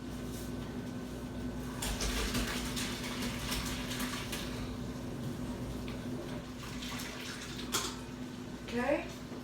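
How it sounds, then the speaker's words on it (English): Cooked ravioli being drained in a home kitchen, with hot pasta water pouring out in a steady broadband rush for several seconds at moderate loudness, then a brief squeak or clatter near the end. "I'm going to drain the raviolis."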